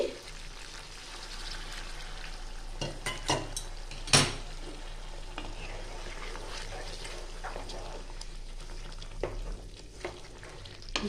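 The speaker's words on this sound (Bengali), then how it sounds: "এবার দিয়ে দেবো আমি জল এখানে আমি গরম জল দিচ্ছি" Chicken curry frying in a pan as hot water is poured in, with steady sizzling and a few sharp spoon-against-pan knocks, close and clear with no speech.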